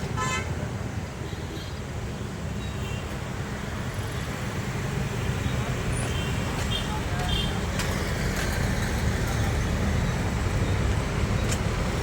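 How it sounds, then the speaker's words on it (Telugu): Road traffic near a crowded petrol pump in Mallapur, Hyderabad, with cars queued by a bus stop: a steady loud roar of engines with scattered horn toots and voices audible in the background. "మల్లాపూర్లోని జనప్రియ బస్ స్టాప్ దాకానే కార్ల యొక్క క్యూ అనేది ఉన్నది మనం చూస్తున్నాం"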